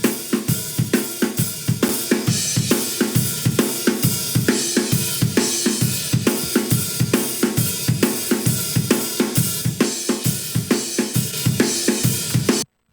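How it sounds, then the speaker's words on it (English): A full drum track treated with Apple's Dynamics processor for compression after equalization, recorded with a cheap earbud microphone, plays a steady, punchy beat of tight snappy hits with no voices, then stops abruptly. "So as you can hear, that really brings out a lot of punch and snap of the drums."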